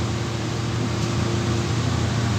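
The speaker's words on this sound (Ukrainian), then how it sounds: "Вентилятор працює практично цілодобово" A ventilation fan runs around the clock in a room, controlled by a thermostat relay, making a loud, steady broadband whoosh with a low motor hum beneath it throughout.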